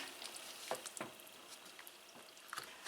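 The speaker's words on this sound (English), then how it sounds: "Stir that all around." Apricot chicken mixture with preserves being stirred in a pan, giving faint, soft squishing and wet scraping strokes spaced a second or so apart under a low background hiss.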